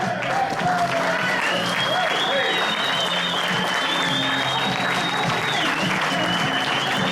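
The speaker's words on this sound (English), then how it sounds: "Give him a round of applause." Sustained, dense audience applause in a St. Louis event hall welcoming a speaker, steady and loud throughout, with a voice and some whoops over the clapping.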